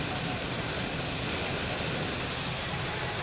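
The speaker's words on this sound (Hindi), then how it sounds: "छत के ऊपर पानी गिर रहा है ना बारिश का, उसकी वजह से इतना शोर हो रहा है" Heavy monsoon rain drums on the roof of a car driving through flooded streets in Rawalpindi, a dense, constant roar of droplets with no pauses.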